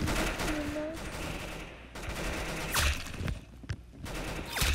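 Gunfire in the Roblox game Arsenal, heard as rapid bursts and single shots in repeated volleys under a continuous layer of game sound, with faint voices mixed in.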